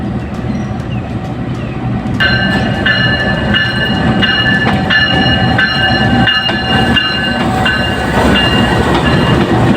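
Jaffar Express passenger train at Shikarpur railway station, rumbling steadily and close throughout, with a sustained multi-tone horn sounding from about two seconds onward in repeated blasts over the rolling noise.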